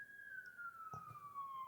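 A lone siren wail holds a steady tone that slowly slides downward in pitch, faint and distant, with a brief dull thump partway through and no voices.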